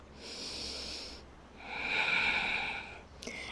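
Slow, deep breaths during a yoga pose, a soft breathy inhale followed by a stronger, louder exhale, close and quiet with no talking.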